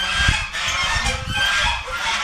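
Geese at Sonaldham Madhada honk in a loud, continuous clamour, overlapping calls from a nearby flock with no talk over them.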